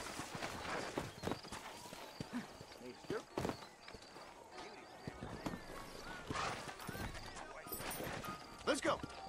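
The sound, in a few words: horses walking, hooves clip-clopping, from the video game Red Dead Redemption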